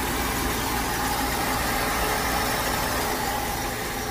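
A Lincoln car engine idles steadily nearby, a continuous low rumble with a broad mechanical hum that holds constant throughout, with no talking.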